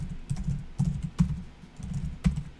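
Keys clatter in quick, uneven bursts of typing on a computer keyboard, close and fairly quiet.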